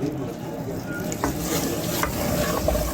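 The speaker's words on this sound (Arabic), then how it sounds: "طبعا راح اضيف شوية شوية واخلط لحد ما اوصل للقوام اللي اريده" Syrup being stirred into a chocolate halwa mixture in a pot gives a close, continuous scraping and gentle sizzling, with a few soft knocks of the spoon against the pot and no talk.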